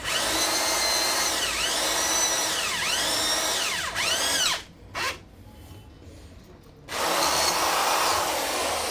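A power drill with a freshly sharpened bit runs loud and close with a wavering whine, cuts out for a couple of seconds, then spins up again at full speed.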